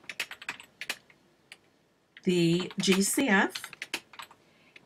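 Typing on a computer keyboard, brisk clicks in short bursts, close by and fairly loud, alternating with someone speaking.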